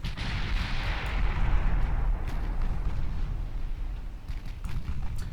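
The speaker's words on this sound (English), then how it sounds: "Another torpedo hit in the back." Torpedo striking a warship in the naval battle game Ultimate Admiral Dreadnoughts, a loud deep boom that rolls on in a heavy rumble, with a few faint distant thuds near the end.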